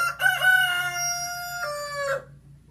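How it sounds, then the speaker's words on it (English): A young chicken lets out one loud, drawn-out, crow-like call nearby, wavering in pitch before breaking off. "There's little teenage chickens, and they're underneath my chair playing."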